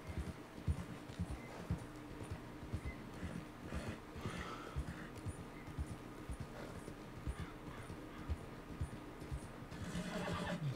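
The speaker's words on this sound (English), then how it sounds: "Let's let my horse kind of rest a little bit." A horse in Red Dead Redemption 2 whinnies and its hooves clop in a steady rhythm, fairly quiet overall, with scattered game ambience and no talking.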